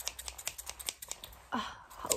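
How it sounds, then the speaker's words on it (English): Close, crisp snips of blue scissors cutting hair in a quiet room, a quick regular series of sharp clicks followed by a longer, heavier cut near the end. "So these are my blue scissors."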